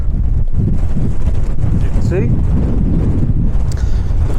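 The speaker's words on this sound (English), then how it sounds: "Those gusts, when they really do get through, they're coming in round about 40, I would have thought." Strong, roaring wind gusts buffet the microphone on an exposed Lake District fell during solo camping, a constant loud rumble with someone speaking briefly beneath it.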